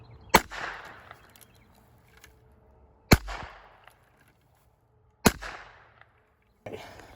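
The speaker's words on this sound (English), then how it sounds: "I'll probably shoot these bottles also just for fun" Three loud, sharp .22LR gunshots ring out several seconds apart at bottle targets outdoors, each with a short decaying echo, followed by a softer fourth impact at the end.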